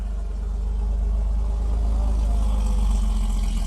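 Porsche 911 SC 3-litre engine and exhaust at a classic vehicle gathering on a town square, a steady low rumbling idle with a slightly uneven throb, close and continuous throughout with no voices.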